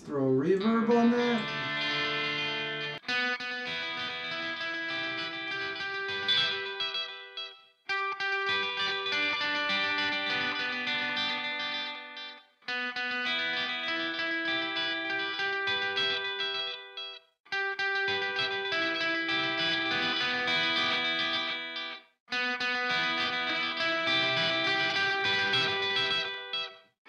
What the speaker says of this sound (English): Let's throw a reverb on that.